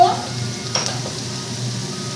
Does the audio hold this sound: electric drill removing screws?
no